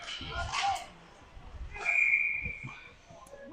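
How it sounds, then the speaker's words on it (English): A referee's whistle sounds at a 16U hockey tournament game, one sustained shrill blast in the middle, surrounded by arena murmur and a commentator's voice. "And we have a whistle."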